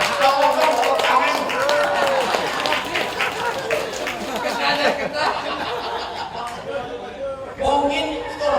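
Audience at a Maulid Nabi religious gathering claps hands amid laughter and lively chatter, scattered bursts of clapping mixed with voices and chuckles, loudest in the first seconds and again near the end.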